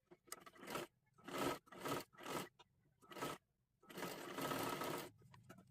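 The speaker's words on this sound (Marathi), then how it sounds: "हे गोल आकारामध्ये आपल्याला शिलाई करून घ्यायचं आहे" A sewing machine stitching a round neckline while making a kurti, heard in several short close bursts of rapid, buzzing stitching separated by pauses, ending in one longer run.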